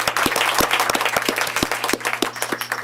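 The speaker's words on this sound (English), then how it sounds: "Let's give her a big round of applause, everybody." Applause for a Victor Elementary School student at a Torrance Unified School District board meeting, a fairly small group clapping with distinct individual claps audible, thinning out toward the end.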